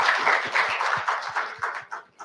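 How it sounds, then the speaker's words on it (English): A round of applause fills a conference hall, steady clapping from an audience that thins out and fades toward the end. "Massive round of applause again."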